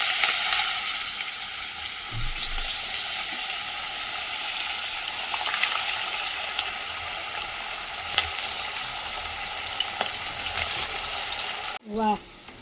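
Dal vada batter with curry leaves frying in hot oil for crispy lentil fritters: a dense, steady sizzle throughout, ending with a brief clatter.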